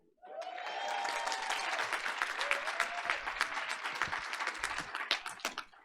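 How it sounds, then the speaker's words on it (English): An audience at a school board of education meeting breaks into sustained applause, a dense, even wash of clapping that swells quickly and holds for several seconds before thinning out. "Each of you deserve a round of applause."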